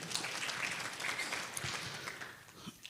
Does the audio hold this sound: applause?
yes